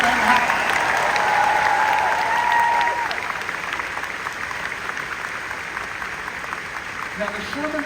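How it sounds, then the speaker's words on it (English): An audience at a musical celebration concert claps steadily, dense applause that eases slightly midway, with a few voices heard over it. "So let's please join me in applauding everyone at D23 for making this event happen."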